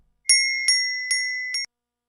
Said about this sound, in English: Boxing bell.